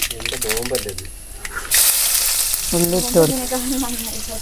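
Mustard seeds and onion hit hot oil and burst into a loud, bright sizzle partway through, crackling on steadily while a voice talks before and over it.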